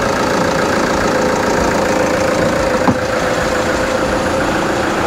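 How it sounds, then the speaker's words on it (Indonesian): An antique diesel car engine idles steadily with a smooth, even running note, heard close and continuous with a brief knock near the middle, no talk over it. "suara mesinnya lebih adem ini daripada yang tadi. Lebih halus."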